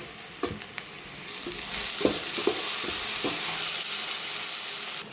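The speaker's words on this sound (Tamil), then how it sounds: "இந்த மாதிரி ப்ரௌனிஸாக வந்ததும் தக்காளி போட்டுக்கோங்க." Tomato dropped into hot oil in a pan for mango kuzhambu, stirred with a few scraping clicks before a steady loud sizzle and hiss takes over, close and continuous.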